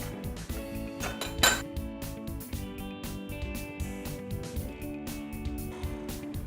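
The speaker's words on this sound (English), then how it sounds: "Now mix it up again." Pumpkin roll batter mixed by hand in a bowl, a steady run of close clinks and scrapes of utensil against the dish with no talking.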